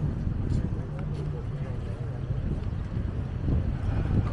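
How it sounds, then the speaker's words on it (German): Strong wind at the coast of Maspalomas, Gran Canaria, a steady low roar buffeting the microphone throughout, with a voice faintly audible underneath. "Und ihr hört schon oder ihr merkt es, der Wind wird stärker."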